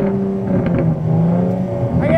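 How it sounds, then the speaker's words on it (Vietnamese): Exhaust of a Rolls-Royce with a 3.0 engine, a loud continuous engine roar close by with a rising rev toward the end, voices talking over it. "Anh cho em xin ít tiếng ống xả nhé."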